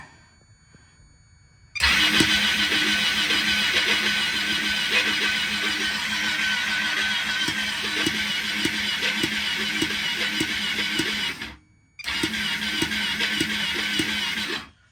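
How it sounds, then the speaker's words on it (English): A Ducati 1199 engine swapped into a Honda Grom cranks over on its starter with the spark plugs removed, a loud steady whirring drone that runs for about ten seconds, stops briefly, then resumes. "So I'm gonna hit the starter button and let's see if this thing builds some oil pressure"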